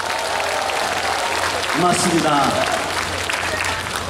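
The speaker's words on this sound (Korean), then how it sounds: "순창군에서 박수 한번 보내주시죠" Audience applause at the opening performance of the Sunchang fermented sauce festival in Korea, a broad wash of clapping from an outdoor crowd, with a voice speaking over it and amplified sound nearby.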